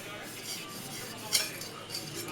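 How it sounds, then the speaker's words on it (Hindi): Metal utensils clink and scrape faintly while dishes are washed by hand in a home kitchen, with one brighter clank standing out against soft running background noise. "और अब जो है ना बर्तन साफ़ कर रहे हैं।"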